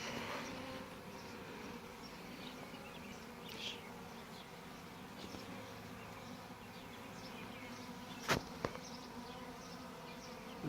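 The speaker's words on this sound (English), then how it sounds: "This is the funnest part here, just kind of watching the bees." A swarm of honeybees makes a faint, steady buzz that holds low in the background, with a couple of sharp clicks and handling knocks late on.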